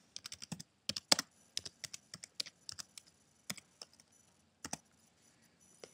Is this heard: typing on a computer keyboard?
yes